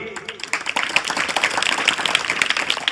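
An audience at a talk on Chhatrapati Shivaji breaks into applause, clapping that swells from a sparse start into dense, sustained handclaps, with a voice briefly heard at the beginning.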